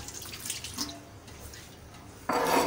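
Tap water runs and splashes into a kitchen sink being washed, with light trickling and drips, then a stronger, steady gush of flowing water starts near the end.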